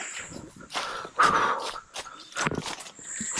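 Hunting dogs bark and bay in short bursts some distance off at a bailed-up pig, amid rustling brush and quiet outdoor movement.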